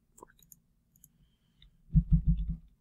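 Keys clicking during in-game typing: a few sparse, faint taps at first, then a quick run of louder, low clacking strokes near the end.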